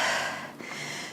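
A long, airy inhale during a Pilates exercise for runners, one continuous breath drawn in close to the microphone, fairly loud and alone without talking.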